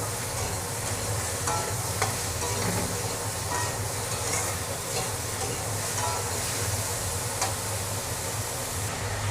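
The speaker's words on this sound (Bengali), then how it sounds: "মূলার সাথে আমি এগুলা হালকা করে ভেজে নেব।" Radish pieces fry lightly in a pan for a Bengali fish curry, giving a continuous dense sizzle with scattered stirring scrapes and no voices throughout.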